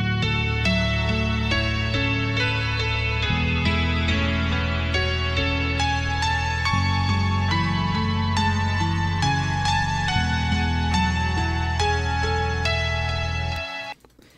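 Layered synth piano from a Nexus preset, with light low notes placed underneath, plays a sustained chordal passage for about fourteen seconds before cutting off abruptly, loud and alone.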